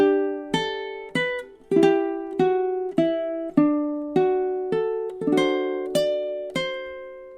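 Ukulele picking a melody from the Irish folk song The Black Velvet Band, clear plucked notes ringing over a steady waltz-like pulse, close and alone without any talk.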